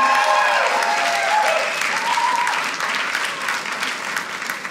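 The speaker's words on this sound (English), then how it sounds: "A big round of applause for VidAngel for putting together some comedy." Applause from a comedy show audience, a full round that starts loud and steady and tapers slightly as it continues, with no talk over it.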